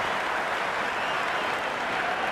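A stadium crowd in the Cricket 26 video game cheers and applauds a six, a steady, dense wash of clapping and crowd roar with no break.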